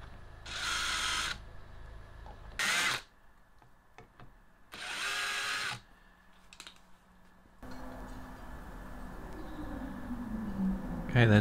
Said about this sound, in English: Quite like using these snail countersinks